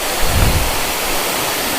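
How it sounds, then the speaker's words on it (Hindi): The Tangish waterfall along a mountain road near Sainj Khad toward Shimla, swollen in the monsoon, roars as a steady, loud broadband rush of falling water with no pauses. "ये देखें आप, टंगीश का झरना बोलते हैं इसको।"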